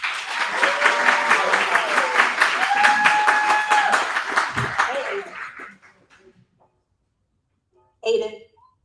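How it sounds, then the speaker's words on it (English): An audience at a youth Toastmasters event claps for a speaker coming to the stage; dense applause for about five seconds fades out, a brief silence follows, then a short burst of a voice near the end. "y'all clap your hands for Aiden Small."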